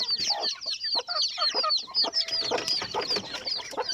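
Several Rhode Island Red chickens clucking and chattering continuously at close range, overlapping calls with a busy farmyard feel.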